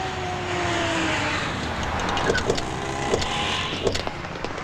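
A car engine runs as a steady, close hum that fades down while the vehicle slows and stops, with a few light mechanical clicks near the end.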